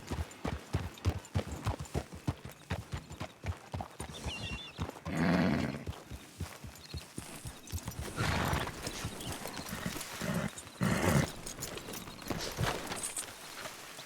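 Rhythmic clip-clop of horse hooves at a walk in a video game, close and steady, interrupted by a few whinnies and snorts.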